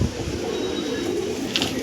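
A tal pigeon coos close by in a short burst, with a brief flutter near the end and no voices.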